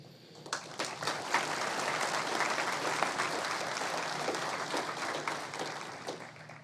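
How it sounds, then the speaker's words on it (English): A crowd at a chamber of commerce annual meeting breaks into applause that swells quickly and holds steady, many hands clapping at once in a fairly distant, roomy space. "I ask if you would give them a round of applause to show our appreciation."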